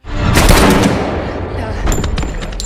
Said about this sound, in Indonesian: Kemudian mereka saling beradu cepat tembak.